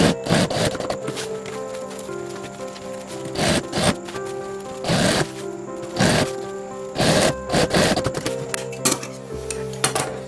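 Stitching a trekking bag on a sewing machine at home, with close, loud bursts of machine running that start and stop irregularly, separated by rustling and handling of fabric.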